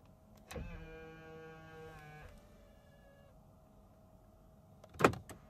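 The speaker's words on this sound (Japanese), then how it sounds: "ドアミラー格納スイッチです。" The door mirror folding motor on a 2021 Nissan Kicks Autech whirs with a steady electric whine for about two seconds, then falls quiet. A single sharp click follows near the end, close and fairly faint.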